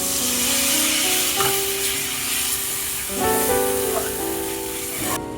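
Water poured into hot frying masala sizzles loudly and steadily, with bubbling spits and a hissing wash, close up and without talk.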